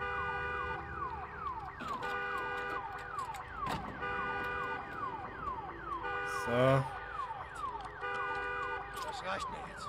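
An alarm in the video game Days Gone sounds in repeated rising and falling wails, mid-distance, with a short burst of other noise partway through and a voice briefly speaking.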